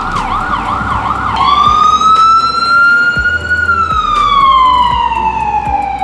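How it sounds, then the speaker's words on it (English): An emergency vehicle passing through New York streets wails close and loud, its siren sweeping in rising and falling tones over low traffic rumble. "There was just a siren going by."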